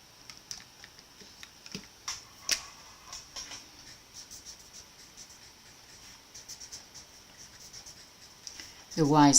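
Pen or pencil writing by hand on paper, a quiet scratchy series of strokes and taps with faint background noise, ending with a brief louder sound.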